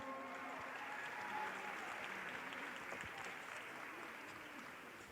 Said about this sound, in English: Give our teens a nice big round of applause.